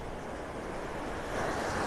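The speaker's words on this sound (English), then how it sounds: "nice waves crashing on the shore." Ocean waves crash on a beach shore in North Naples, Florida, a steady roaring surf that swells slightly louder toward the end, with wind noise and no voices.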